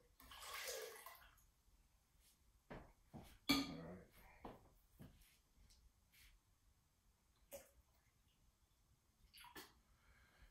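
Ginger mead homebrew is poured out, giving a splashy liquid rush near the start followed by scattered clinks and handling knocks in a quiet room.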